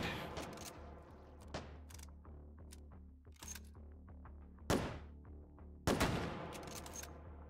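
Gunshots from the VR game H3VR ring out as sharp, spaced cracks, with several louder reports standing out among quieter mechanical clicks and handling noises, at a fairly low overall level.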